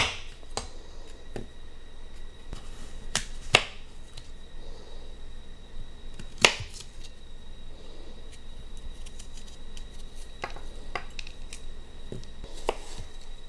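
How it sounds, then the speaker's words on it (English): A short-bladed Stubby Butcher knife cutting the core out of an apple, a series of crisp, sharp cutting clicks spaced irregularly over a quiet background. "The blade's not too long, so it's still easy to maneuver, even to cut out the core of an apple."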